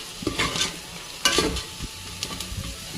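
Biryani masala stirred in a hot pan just after chili powder goes in, with scraping spoon strokes over a steady close sizzle, two louder bursts of stirring standing out alone.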